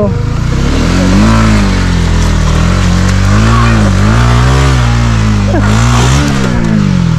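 Honda ADV 160 scooter engine revving hard on a muddy trail, a loud continuous drone that rises and falls in pitch, close up throughout.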